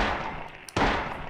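In the video game Silent Hill, gunfire gives a loud, sharp blast that cuts off a dense, noisy background roar, which then resumes at full strength.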